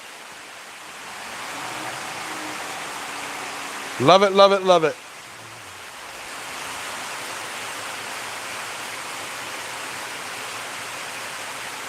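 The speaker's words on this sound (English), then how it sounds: "Like, it's tin roof, loud rain." Loud rain drums steadily on a tin roof as a dense, continuous hiss, briefly broken by a man's short spoken remark before the downpour carries on alone.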